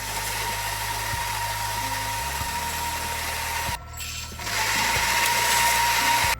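A Gevi VelPro 400 coffee grinder runs steadily, grinding beans with a constant motor whine and a low mechanical hum, briefly dipping mid-run before resuming, with no voices.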